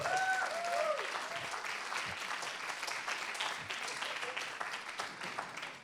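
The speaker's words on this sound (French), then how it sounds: "Vous pouvez vous applaudir." Audience at a French humor and poetry forum applauding themselves, a steady wash of clapping held at moderate level throughout, with brief voice fragments at the start.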